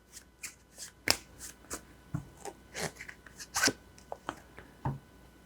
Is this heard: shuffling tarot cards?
yes